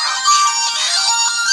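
A Den-O belt's Keitaros toy phone gives off a bright electronic ringtone, a sustained warbling tone played close and loud with no voices.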